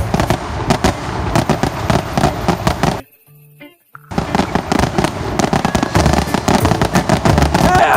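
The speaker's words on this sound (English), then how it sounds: "That was like 100 fireworks at the once." Dense fireworks finale crackles and bangs in rapid, nearly continuous bursts, loud and close, with a brief lull in the middle before the barrage resumes, and faint voices in the background.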